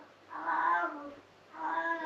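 Indoor cat meows twice, two drawn-out, fairly soft calls separated by a short pause, close by in a quiet room during home cider making.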